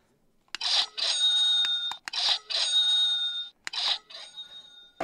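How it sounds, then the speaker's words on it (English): A loud electronic stock market opening bell rings in several long bursts with short gaps between them, close and dominant, with no talking. "Market bell right there."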